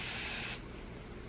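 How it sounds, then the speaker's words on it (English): A close, short burst of hair spray hisses onto hair, a bright aerosol spray lasting about half a second before cutting off into quiet room tone. "I'm gonna just part right here and just spray this hair"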